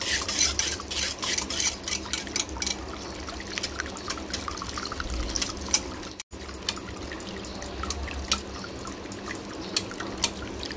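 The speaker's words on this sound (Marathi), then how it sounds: "मी ते विस्करने सगळं मिसळून घेणार आहे दूध चांगलं।" Milk is whisked for homemade curd, giving continuous close wet swishing and dripping liquid sounds with rapid irregular clinks throughout and a brief pause partway through.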